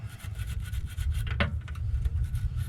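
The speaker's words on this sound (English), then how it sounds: "I'm gonna get a stainless steel brush" A stainless steel wire brush scrubs a rusted part on a 1975 Chevrolet El Camino field find, giving a steady close rasping scrape with one sharper scratch midway and no talk.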